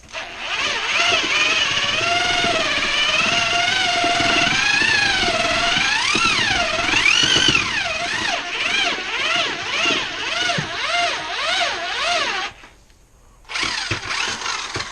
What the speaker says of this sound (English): now it's getting good because now my drill's getting hot.